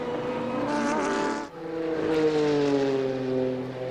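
A works Omron Porsche race car at the 1988 Fuji WEC round screams past with a loud, sustained engine note. The whine shifts pitch as it passes, a brief dip comes at a gear change, and the roar carries on steadily.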